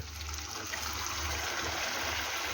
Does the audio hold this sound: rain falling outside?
no